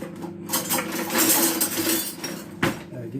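A spoon is pulled from a jumble of cutlery in a kitchen while homemade health biscuits are being mixed, making a few bright metallic clinks and rattles up close, with one sharper clink near the end.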